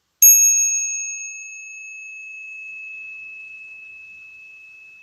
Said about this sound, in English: with the fullness and with the clarity of the bell